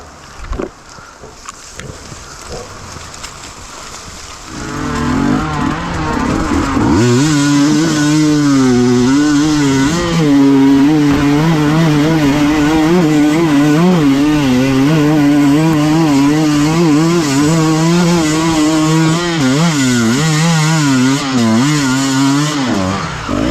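A KTM TPI two-stroke motorcycle with relocated injectors idles briefly and then roars at wide-open throttle, its loud, buzzing engine note wavering in pitch and sustained for nearly twenty seconds.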